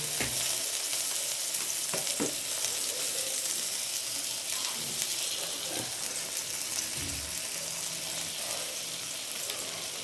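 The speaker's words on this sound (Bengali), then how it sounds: "লতিগুলো একটু ভাজবো" Taro stolons frying in hot oil in a wok, a steady dense sizzle running throughout with a few soft scrapes and clinks of stirring, close and fairly loud, no talking.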